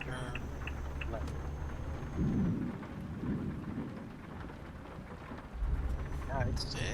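Stormy weather in the video game Project Japan: steady rain patters throughout while low thunder rumbles swell twice, with a heavier roll near the end, as a voice speaks over the storm.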